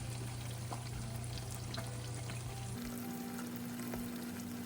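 Eggs fry in a hot cast iron skillet with a steady close sizzle and crackle, joined by faint scraping as they are turned over.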